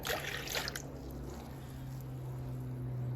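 Milk is poured into a mixing bowl of warm water for pizza dough, a brief close splashing trickle at the start that fades into a quiet low hum.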